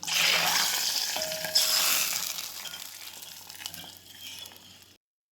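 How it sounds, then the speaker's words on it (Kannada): Pepper and mustard seeds tempering in hot oil for a simple katsaru make a close, bright sizzle that starts loud and slowly fades over a few seconds before cutting off, with no voices. "ಒಂದು ಒಗ್ಗರಣೆ ಕೊಡಿ."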